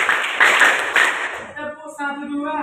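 Children clap hands together in a counted rhythm for about a second and a half, then the clapping stops and an adult voice speaks.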